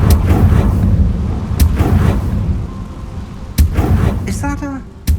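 A Confringo fire-blast spell explodes in Hogwarts Legacy gameplay, heavy booming bursts with deep rumbles repeating over several seconds, close and loud, with a brief voice near the end.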